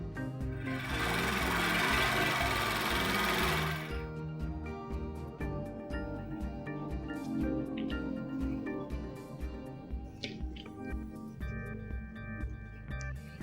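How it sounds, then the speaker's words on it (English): Serger sewing along the raw edges of fabric for a baby twisted turban hat, a loud steady mechanical whirr for the first few seconds, then quieter rhythmic ticking and clicking of the machine and fabric handling. "I will sew here using a serger"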